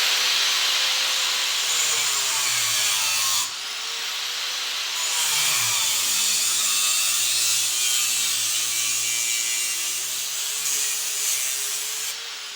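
An angle grinder's cutoff wheel bites into a metal stair railing in a workshop, a steady loud bright grinding whine that drops out briefly around a third of the way through, then resumes and continues to the end.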